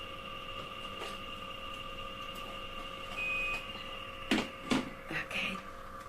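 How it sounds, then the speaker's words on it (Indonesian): An indoor air conditioner runs loudly with a steady whining hum. A few short clicks and rustles come near the end. "Saya harus matikan AC-nya karena bunyinya keras."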